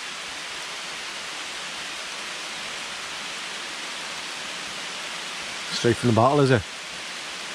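Steady rain falls through dark woods at night, a constant even hiss of drops, while someone speaks briefly near the end.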